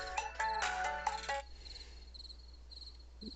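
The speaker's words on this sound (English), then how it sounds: "Why am I getting a phone call from someone?" A phone ringtone for an incoming call plays a bright melodic phrase for about a second, then breaks off, leaving faint high chirping tones over quiet background.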